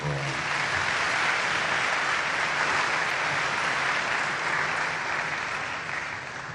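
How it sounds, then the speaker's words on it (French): Loud, dense audience applause fills the hall at a presidential scholarship ceremony in the DRC, steady and continuous for the whole stretch with no talk over it. "Applaudissez d'abord très fort."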